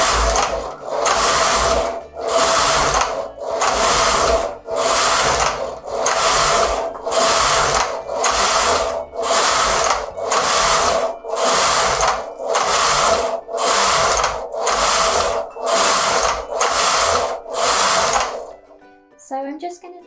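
A Silver Reed SK280 punch-card knitting machine carriage is pushed back and forth across rows, making a loud, regular series of rasping, whirring sweeps about every 1.3 seconds, each followed by a brief pause.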